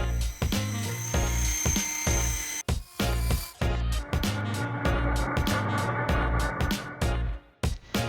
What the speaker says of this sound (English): An electric sander along with sandpaper was used for this.